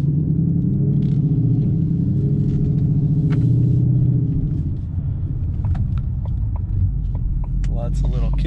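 A car driving along a road, recorded on a GoPro Hero 7 Black, with a steady low engine and road rumble throughout, someone talking over it early on, then a few faint clicks and knocks.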